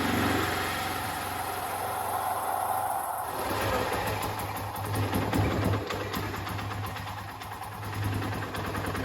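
A classic car engine idling during a restoration, a steady low throbbing hum with a rapid mechanical patter that grows fuller and louder after about three seconds, continuing alone without speech.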